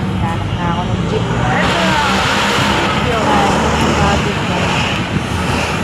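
A jeepney engine runs and revs steadily, loud and close, with heavy wind buffeting across the microphone throughout, no clear voices.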